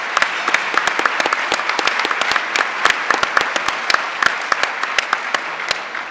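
An audience at a debate event claps for the debaters, a steady, dense round of applause with many sharp individual claps popping out, sustained throughout at moderate loudness.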